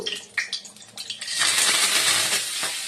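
Tempering spices tossed into hot oil in a kadai: a few light clicks and patters as the seeds land, then a sudden loud, steady sizzle with crackling that stays close and holds to the end, with no talking.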